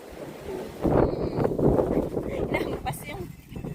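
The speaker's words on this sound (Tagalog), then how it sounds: "Inampas yung camera ko ng hangin" Gusty wind in a backyard garden in Canada buffets the microphone in uneven surges, with voices talking under the rumble.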